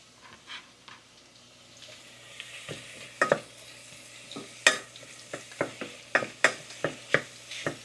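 Mushrooms frying in a hot pan, with scattered sharp sizzles and stirring scrapes growing busier over several seconds against a soft steady hiss; no talking.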